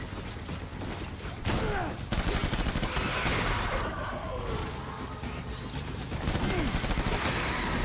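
Gunfire in the PC game Death Stranding Director's Cut: loud, continuous bursts of shots with brief breaks and shifts in intensity, dense throughout and layered with other game sounds.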